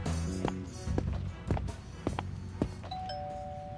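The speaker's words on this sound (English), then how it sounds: "They take their last few steps up to the door and ring the bell." Doorbell rings in the video game Reverse: 1999, its chime tone sounding near the end after a run of heavy, evenly spaced footsteps climbing toward the door.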